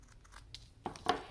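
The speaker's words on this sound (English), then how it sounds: "I'm going to take this cool cobweb and cut it in half." A pair of scissors snips through a paper cobweb decoration while making a card. The short, crisp cuts come close together near the end, quiet and close, with faint paper rustling before them.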